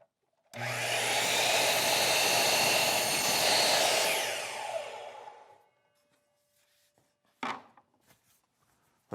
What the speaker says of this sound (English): Now ready to cut the bottom right miter.